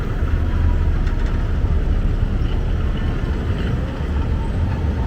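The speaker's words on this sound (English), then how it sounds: "you just saw the train go past us on this beautiful monumental bridge" A train crosses the Kwai Bridge in Kanchanaburi, Thailand, a loud, steady rumble of wheels and engine heard nearby for several seconds.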